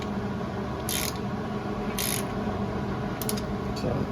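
A ratchet backs out a stud with a bolt welded onto it in a few brief clicking bursts over a steady background hiss.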